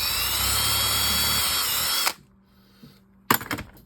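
A power drill runs while carbon fiber drag washers are upgraded on an Olympic Spark VO 1800 fishing reel: about two seconds of loud, continuous close whirring that stops abruptly, then quiet, followed by a few sharp clattering knocks of handled tools.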